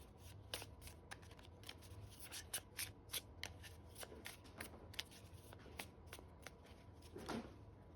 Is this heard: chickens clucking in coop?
no